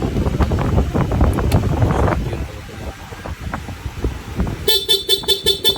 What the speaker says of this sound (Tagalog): Busina ni Sir, nilagay natin